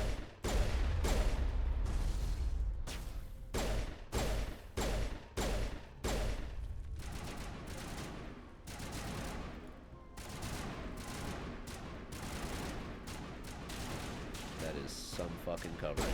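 Repeated gunfire bursts and scattered shots from a Mass Effect firefight, dense and loud through most of the stretch, with rapid volleys early on and continuous combat noise layered under game voices.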